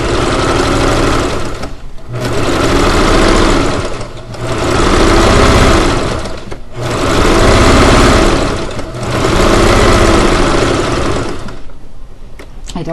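A sewing machine stitches quilt block seams in repeated bursts of about two seconds, separated by short pauses, loud and close.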